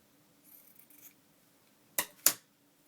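Scissors cut paper for a junk journal in two sharp, close snips after a quiet stretch of faint rustling.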